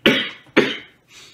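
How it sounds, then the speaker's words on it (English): Two sharp, dry coughs from a person suffering seasonal allergies, close and loud, the second following about half a second after the first, then a softer breathy exhale trailing off. "I've got that annoying dry cough."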